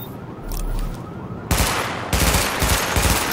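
Gunfire at targets during a weapon test in Tom Clancy's The Division: loud, close automatic bursts that begin sharply after a brief lead-in and repeat in several rapid volleys.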